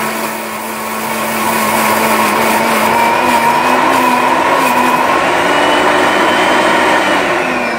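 Electric blender steadily grinding cumin into a paste, a continuous high motor whine with a grinding buzz that runs loud and unbroken after a brief start.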